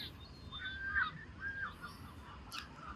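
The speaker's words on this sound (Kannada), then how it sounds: "ಬಾತುಕೋಳಿ" Waterfowl honk and call at Waterworks Belfast, a few faint, scattered cries over low outdoor background, fairly distant.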